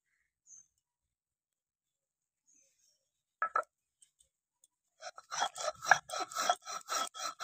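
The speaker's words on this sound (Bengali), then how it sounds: "এবার আমি এটা শিলনোড়াতে বেটে নেব।" Roasted semolina being ground on a stone slab with a grinding stone: after near silence, a brief scrape, then repeated rhythmic rasping strokes, close and moderately loud.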